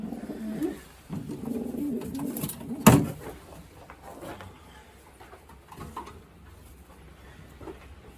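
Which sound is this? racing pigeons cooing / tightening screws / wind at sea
racing pigeons cooing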